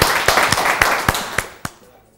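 Live TV studio audience clapping for a singer, a quick run of sharp, loud claps in an uneven rhythm that thins out and fades to quiet after about two seconds.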